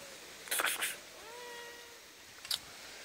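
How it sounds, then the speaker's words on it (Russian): A cat gives one short, faint, rising meow nearby, framed by a few brief rustling clicks before and after it against quiet outdoor background noise. "У нас кот ходит."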